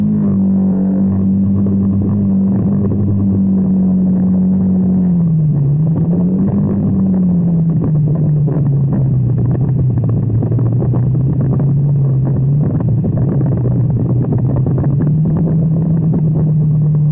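A Hero Xpulse 200 motorcycle pushes through a water crossing on the Manali to Sarchu route, its engine droning loud and close and rising and falling as the throttle is worked, with wind buffeting the microphone.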